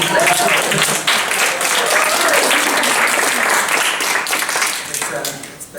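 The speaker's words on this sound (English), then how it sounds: "So you want to give yourselves a round of applause." Sustained, loud audience applause at an in-person creative writing reading, dense clapping filling the room for several seconds before easing off near the end.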